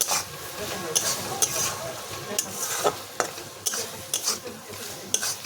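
Okra mustard curry with cumin-coriander powder being stirred in a pan: regular spatula scrapes and taps roughly every half second over a steady sizzle, close and clear.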